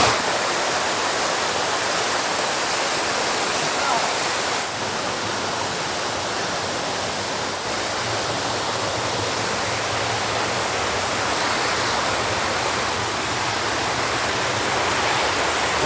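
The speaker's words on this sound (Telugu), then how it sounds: "మన ప్రాంతంలో ఉండే ప్రజలకు కూడా తెలియదేమో ఇంత అందమైన వాటర్ ఫాల్స్ ఉందని" A waterfall in the tribal hills roars steadily and evenly, a dense continuous rush of falling water that stays loud for the whole stretch with no voices over it.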